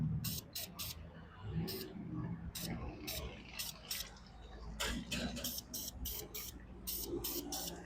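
Oil-based protectant is sprayed onto the top of a car battery in a rapid string of short, hissing aerosol bursts, close to the mic, over a low background rumble.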